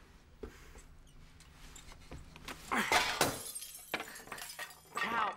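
Glass breaks and shatters in a home setting, with several sharp crashes followed by scattered tinkling fragments and some rustling movement.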